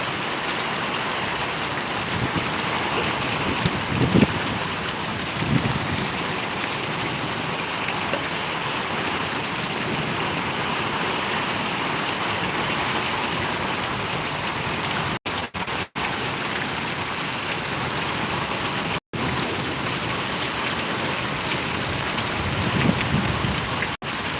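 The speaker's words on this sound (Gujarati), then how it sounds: "મજાનો વરસાદ અત્યારે પડી રહ્યો" A long, sustained downpour over Parvadi village in Gariyadhar taluka hisses and patters evenly with scattered nearby drips, no voices, and a couple of abrupt brief dropouts.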